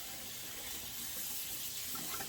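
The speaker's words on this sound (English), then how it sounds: "I'm just going to get it well rinsed." Tap water runs steadily from a kitchen faucet as a turkey is rinsed under the stream, a continuous close splashing hiss with no talking.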